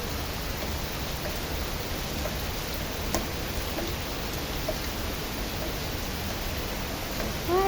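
Heavy rain pours down in a steady, dense hiss, with no voices, while a flooded road lies nearby.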